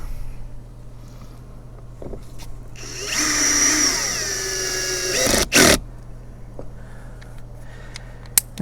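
A power driver spins screws into a Lexus RX350 interior door panel, one whining burst of about two and a half seconds ending in a sharp clunk, with faint clicks before and after.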